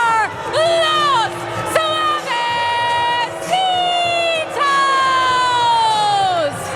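A West Coast Pro Wrestling crowd cheers and whoops loudly for the tag team Los Suavecitos, with sustained high-pitched chanting and shouting rising in repeated waves, near and continuous.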